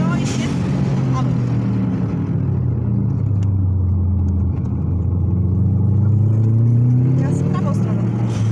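Car engine revving and accelerating on the Kraków race track, loud and close, with rising and falling engine tones throughout while a driving instructor calls out instructions.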